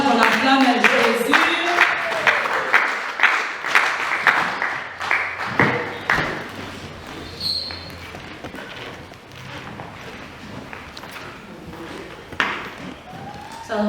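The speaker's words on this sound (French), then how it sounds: "Lorsqu'elle s'approche, on encourage, on acclame Jésus." Audience at a church conference applauding and cheering, a dense wash of clapping that is loudest at first and then thins out, with scattered voices mixed in.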